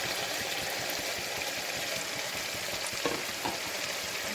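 Marinated hariyali chicken sizzles and bubbles in a pan, a close, steady crackling fry with a watery bubbling texture and a couple of small clinks near the end.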